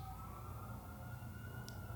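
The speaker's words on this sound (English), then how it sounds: "Should we hold for the sirens?" A siren wails steadily in the distance over low rumbling street traffic, faint but continuous, with no talking.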